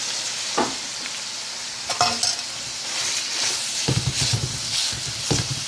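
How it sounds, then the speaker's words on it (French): Ground beef sizzles steadily in a hot pan for macaroni with meat, with scraping stirs and utensil clacks against the pan breaking up the mince; close and continuous, with no talking. "je vais ajouter tout de suite ma viande. La viande hachée."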